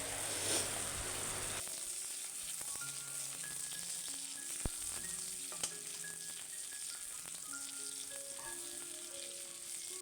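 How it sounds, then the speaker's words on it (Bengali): Steady sizzle of onions frying in a pan runs throughout, with a faint background tone and a couple of brief clinks; no one speaks. "পেঁয়াজটা ভেজে নিলাম"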